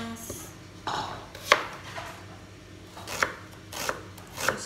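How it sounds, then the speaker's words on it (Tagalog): An onion being chopped with a knife on a board for a tuna sandwich gives a few separate, sharp, close knocks spaced unevenly over a few seconds, with soft scraping between them. "Now, hiwa tayo ng sibuyas."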